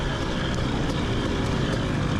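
KTM 250 XC two-stroke dirt bike running steadily close by during a Florida hare scramble race, a continuous buzzing engine drone with no pauses, slightly quieter as if coasting or at part throttle.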